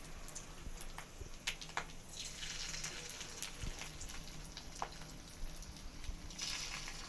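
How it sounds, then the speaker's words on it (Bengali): Macher dimer bora, fritters of fish roe, deep-frying in hot oil, a steady close crackle and sizzle with scattered sharper pops throughout. "এবারে এটাকে ভালো করে খরা করে ভাজতে হবে।"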